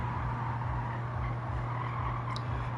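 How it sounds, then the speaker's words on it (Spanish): Supercar engine in Gran Turismo 7 holding a steady, loud low roar at sustained speed, a continuous droning rumble with no breaks and no talk over it. "Increíble rugimiento de este coche."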